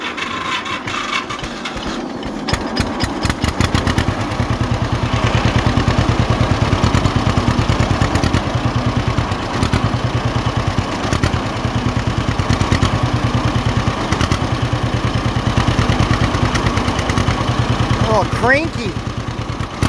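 An old Model 50 tractor engine starting up and then running at a steady, rapid thumping idle near a barn, loud and continuous with a brief clatter near the end.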